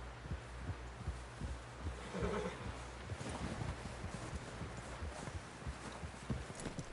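Horse hooves clip-clop in Red Dead Redemption 2, a steady, fairly quiet run of soft thudding steps under a low ambient rumble, with no talking.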